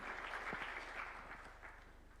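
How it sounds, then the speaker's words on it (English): An audience at State House in Nairobi claps to welcome a government minister at an official bill-signing ceremony. The applause is steady and fairly faint, heard from a distance, and tapers off slightly toward the end. "Kindly, let's welcome him with a clap."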